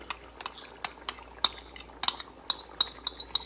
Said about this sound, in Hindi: यहाँ पे मैं योगर्ट डाल दूँगी, वही योगर्ट जो मैंने आपको दिखाई है 1 कप